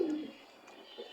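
A pigeon from a flock gives one soft, low coo right at the start, faint and fairly close, followed by quiet background with a few slight rustles. No one speaks.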